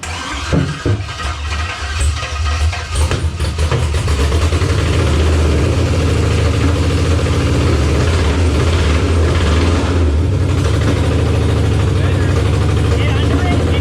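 A car engine being cranked for a long-overdue first start catches and settles into a loud, steady, rumbling idle close by, with a brief rough stretch at the start and people talking over it.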